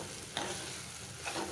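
A spoon works through a mixed vegetable curry with masala and grated coconut in a pan, giving two soft scraping strokes over a faint, steady background sizzle, quiet and close, with no talking.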